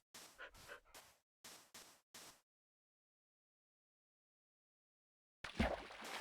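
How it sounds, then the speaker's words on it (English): A dog barking as a stream alert comes as six short, sharp barks in quick succession. A long silence follows, then a burst of louder, noisier sound. "The alert was the dog bark"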